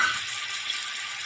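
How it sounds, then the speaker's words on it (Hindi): Water pours into a cooking pot of potatoes for aloo rice, a steady soft rushing hiss with no break. "देखिए हम इसके अंदर थोड़ा सा पानी शामिल करेंगे"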